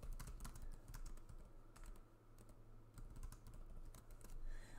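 Keyboard typing on a computer while writing a social media post, a steady run of quick, light key clicks with brief pauses, close and moderately quiet over a low background hum.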